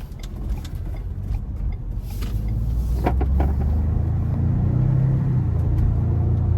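A 2023 Ford Expedition Max SUV accelerates on the road, its low engine and road rumble building steadily and then holding at speed from inside the cabin, with no talk.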